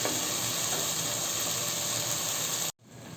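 Tomatoes sautéing in a pan, a steady, even hiss of cooking that holds close and fairly loud throughout, then breaks off sharply just before the end and resumes more quietly.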